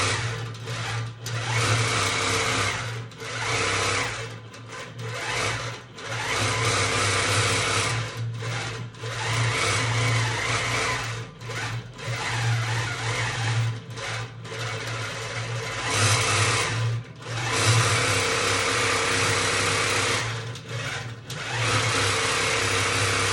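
A long arm quilting machine stitches steadily through a quilt, giving a continuous loud mechanical hum and whir with brief dips where it slows or pauses, with no voices.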